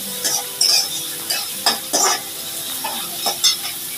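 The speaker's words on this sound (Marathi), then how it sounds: "1 ते 2 मिनिटं आपण छान असं परतून घेऊया तेलामध्ये, नरम होईपर्यंत." Onions sautéing in hot oil in a pan with curry leaves, a steady close sizzle broken by several louder scraping stirs of a spoon against the pan.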